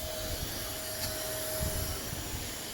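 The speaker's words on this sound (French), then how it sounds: "pas de poussière avec l'aspiration, grâce à un super aspirateur d'enfer" Vacuum extraction running on a homemade cardboard sandblasting cabinet, about 1.3 m by 70 cm: a steady, continuous broadband roar with a faint tonal whine, holding even throughout with no talk.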